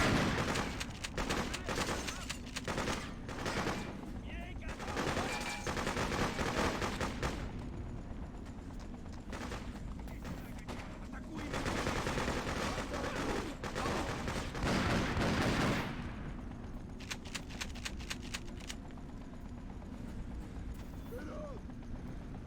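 Video game Freedom Fighters combat, with repeated rapid bursts of gunfire in clusters, loud stretches of sustained shooting alternating with quieter gaps, while a person talks over much of it.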